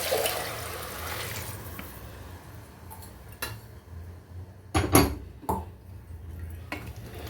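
Rice-soaking water is poured into a cooking pot for a soya chunk biryani: a soft, steady wash of liquid, broken by a few sharp metallic clanks of utensils against the pot near the end.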